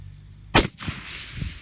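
A single sharp rifle shot from a Cadex rifle chambered in .308 Winchester cracks loudly and close, followed by a brief echo and fading rumble.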